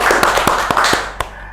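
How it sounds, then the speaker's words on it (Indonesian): Applause greets a guest called Mister Puisi on an Indonesian talk show about a vice-presidential debate: sharp, close claps over a dense wash of clapping that lasts about a second and a half and then thins out. "Tepuk tangan untuk Mister Puisi."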